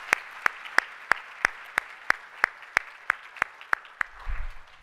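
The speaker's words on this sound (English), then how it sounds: "Let's give them a round of applause." Sharp, evenly spaced claps at a steady beat, about three per second, ring out over a quiet room at a conference summit keynote, then a low rumble at the end.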